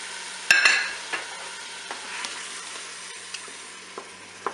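Peeled tomatoes land in a hot Cookeo on its browning setting, giving a sharp splash and then a steady sizzle, with a few light clicks from stirring.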